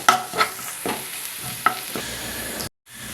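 Ground masala sizzling and frying in a pan with browned onions, a steady broadband crackle broken by a few sharp stirring clinks, then a brief dropout before the sizzle resumes; no voices.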